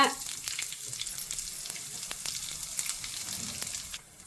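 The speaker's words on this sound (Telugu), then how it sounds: "2 చెంచాలు ఆవాలు చిటపట్లు ఆడిన తర్వాతే మిగతా పోపు వేసుకోవాలి" Mustard seeds and other tempering spices crackle in hot oil for a tomato chutney. A steady loud frying sizzle is broken by sharp pops throughout, with no talk.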